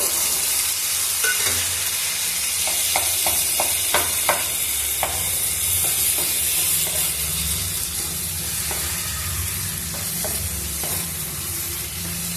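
Thick pieces of boiled potato frying in a pan, a loud continuous sizzle and hiss with repeated clicks and scrapes of stirring, no voices.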